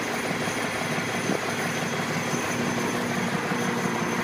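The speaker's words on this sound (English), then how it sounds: "Big inline six diesel engine." The big inline six diesel of a Ford A66 wheel loader with an enclosed cab runs at a constant, loud, close rumble with a rattling mechanical texture and no break or voices.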